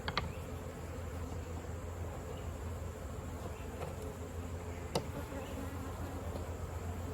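Honeybees buzz steadily around an opened Layens hive, a dense continuous drone close by with a few sharper individual passes, no voices.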